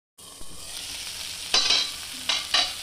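Tomatoes roast in a covered pan, producing a steady low sizzle with a few brief louder bursts of spatter near the end.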